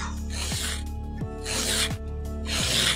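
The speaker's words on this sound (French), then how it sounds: "Et donc maintenant, on va limer le corps de l'ongle." A nail file rasping across a long acrylic stiletto nail in quick, close, steady back-and-forth strokes, about two per second, with no speech.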